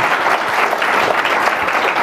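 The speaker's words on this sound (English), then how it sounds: "we'll take the clapping as much as possible" A conference audience at a CEO summit claps steadily for a couple of seconds, a dense, even patter of many hands without talk.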